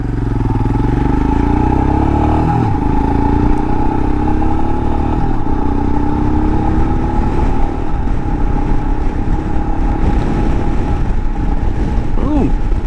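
A 2022 Royal Enfield Himalayan motorcycle ridden through desert in southwest Utah, a steady loud low engine drone with wind buffeting, close and continuous, with faint rising pitch shifts.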